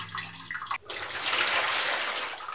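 Rusty water is poured out of a Culligan water filter housing after a spent, rust-brown cartridge is removed, giving a loud, steady splashing gush that starts abruptly and runs on without talk.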